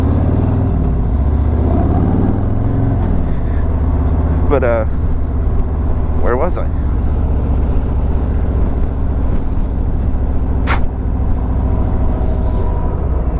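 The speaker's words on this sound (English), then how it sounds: "all the trucks and stuff going by" Traffic on the I-5 highway, trucks and cars, rumbles continuously as a low, steady drone, with someone talking briefly over the noise.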